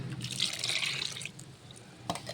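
Water pours into washed fish for a fish masala in a home kitchen, a fairly quiet trickling stream that fades after about a second, then a couple of faint drips and splashes.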